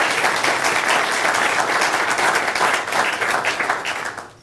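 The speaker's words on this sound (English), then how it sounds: "we'd like to give her a round of applause" A board meeting audience claps steadily in a dense, continuous round of applause, the sound tapering off near the end.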